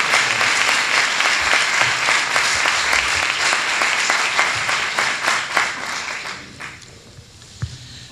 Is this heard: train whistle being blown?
no